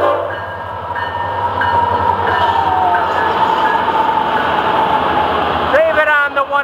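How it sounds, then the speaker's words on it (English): FEC 101 train approaching a rail junction: a loud rumbling passage of rail cars with a low engine drone and high squealing tones, ending with a brief horn-like note. "I'll bet he's also anxious to see FEC's 101. With Jim and the ECH coming to the junction."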